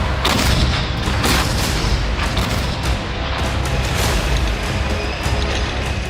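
Russian T-90 tank firing, a loud sustained rumble with repeated booming blasts layered over heavy mechanical noise.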